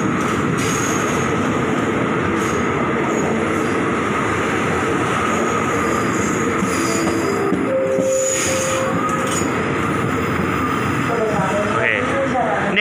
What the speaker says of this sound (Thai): เนี่ยเป็นรถธรรมดา202นะครับพิษณุโลกกรุงเทพหัวลำโพงก็ขบวนนี้